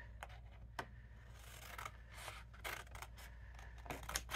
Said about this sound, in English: cut the tab